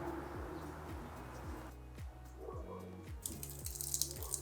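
Water sloshing and dripping inside a faulty car taillight housing, with a repeating wet, gurgling pattern close by and a brief hiss near the end.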